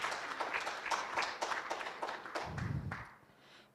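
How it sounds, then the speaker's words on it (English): Brief burst of applause welcoming a doctor to the panel at a medical scientific conference in Rwanda, several seconds of scattered clapping from the audience that thins out toward the end. "Give him a round of applause."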